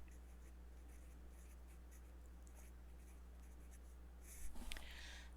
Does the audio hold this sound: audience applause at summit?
no